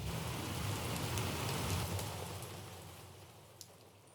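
A rain sample for a lofi beat hisses as steady, dense rainfall with soft patter, fairly quiet, and slowly fades toward the end.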